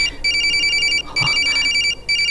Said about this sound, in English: Stop it, the ringtone is kind of annoying too, you know?